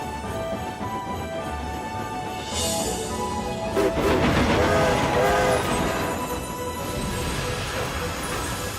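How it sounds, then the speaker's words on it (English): A cartoon train rumbles and clatters as it departs, wheels and carriages building in noise midway, with a brief horn-like tone and faint voices. "The train's going without us"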